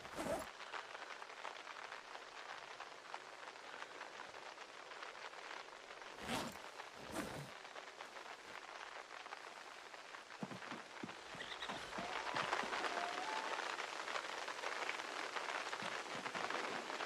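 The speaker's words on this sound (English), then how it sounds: "Can't hear it over the pouring rain." Pouring rain hisses steadily throughout a zombie survival video game, a continuous even wash that swells slightly toward the end, with a few brief louder thumps breaking through.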